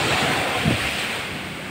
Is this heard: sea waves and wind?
yes